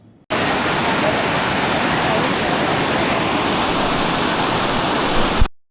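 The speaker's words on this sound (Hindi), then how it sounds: "तेज़ वेग से बहती नदी की गर्जना" The fast-flowing Bhagirathi river at Gangotri in the Himalayas roars as a dense, steady rush of water, loud and close, holding constant for several seconds before cutting off.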